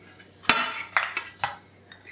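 Upma, the South Indian breakfast dish uppittu, being served into a bowl with three sharp, close clinks of a spoon against the bowl and faint handling noise between them.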